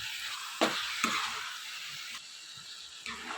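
Spoon scraping and stirring a thick coconut and jaggery syrup mixture in a pan, with cardamom powder being mixed in, giving a soft continuous sizzle broken by a few sharp scrapes.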